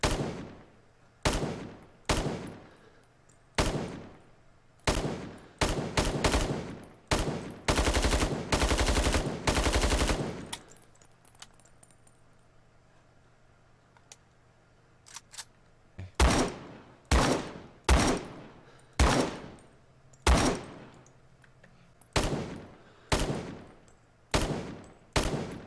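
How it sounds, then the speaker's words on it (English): An AK Type 56 rifle fires on automatic in the Vietnam-era shooter Rising Storm 2: Vietnam, with sharp short bursts and one long sustained string, loud and close, separated by brief quiet gaps. "the sound of the automatic fire"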